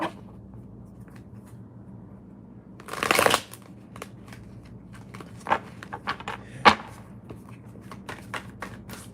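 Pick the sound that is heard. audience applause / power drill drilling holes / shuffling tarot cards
shuffling tarot cards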